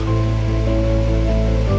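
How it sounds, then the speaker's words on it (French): The Cascade d'Andriamamovoka waterfall pours as a constant, dense roar of rushing water, loud and steady over the brief moment without voices. "Puis on entend l'eau, avant même de la voir."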